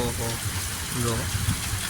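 Steady heavy rain hissing and pouring with wind during flooding in Timba village, with gusty rushing noise and someone talking over it.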